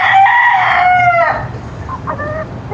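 A yellow-legged Hatch gamecock crows loudly and close in one long drawn-out call, followed by softer clucking and a shorter call from nearby fowl.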